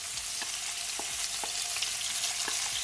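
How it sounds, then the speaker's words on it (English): Chopped onion, scallion and scotch bonnet pepper sizzle in hot oil, a dense continuous frying hiss up close with a few light stirring taps, no talking. "And you're just gonna allow it to saute, guys, for at least 30 seconds"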